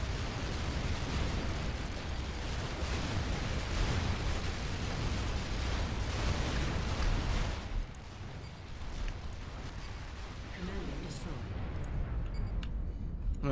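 Bombs go off in the real-time strategy game Supreme Commander 2, a dense, continuous roar of blasts that holds loud for several seconds, then drops to a lower rumble with scattered pops.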